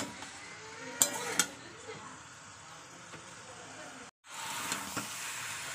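Sweet pumpkin with salt and turmeric sautés over low gas for a tilapia dish, a quiet sizzle with a few clinks of the spoon against the pan, briefly cut off near the end.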